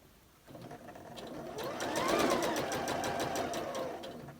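Sewing machine stitching fabric, starting up after a quiet moment and running in a steady, close rapid mechanical whir with a fast needle rhythm that speeds up slightly midway and holds to the end.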